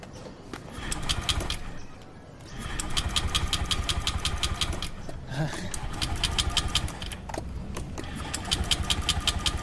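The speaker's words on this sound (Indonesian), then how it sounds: "Naik motor aja lah ya." Motorcycle engine running in an Indonesian film scene, a steady mid-pitched idle with a regular pulsing throb, briefly dipping then resuming, close and fairly loud with no talk over it.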